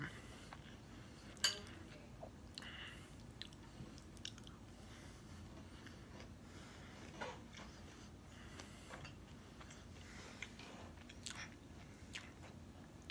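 Soft, close chewing and biting of home-cooked food, with faint, irregular crunchy and squishy bites over a quiet room background and no talking.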